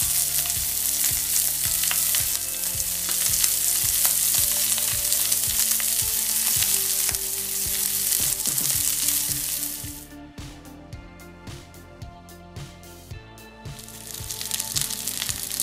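Norwegian saba mackerel grills in a pan with teriyaki sauce, giving a steady, close sizzle and crackle with no talk; the frying quiets noticeably partway through.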